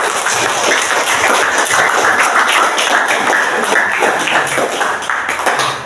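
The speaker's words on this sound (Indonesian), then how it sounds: "Tepuk tangan." Ninth-grade students in a classroom clap together after a lesson activity, a burst of busy, uneven hand claps and taps lasting several seconds, close and fairly loud, fading slightly at the end.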